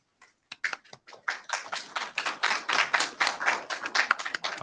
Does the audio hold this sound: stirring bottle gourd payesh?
no